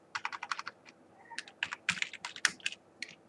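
Crisp keystrokes on a computer keyboard as C code is entered, quick clusters of clicks with brief gaps, near and clear in a quiet room.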